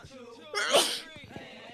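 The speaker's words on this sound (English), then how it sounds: "And I'm going to sneeze." A single sharp sneeze bursts out mid-session during a fitness tabata workout with curtsy lunges, loud and close, with a voice talking just before and after it.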